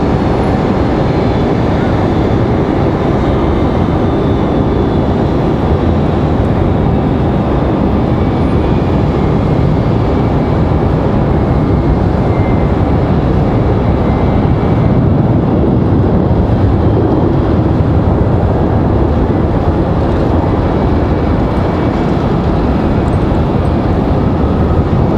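An American Airlines Boeing 737-800 arriving from Dallas at Raleigh-Durham airport gives off a loud, sustained broadband jet roar that holds steady for the whole stretch, close and continuous.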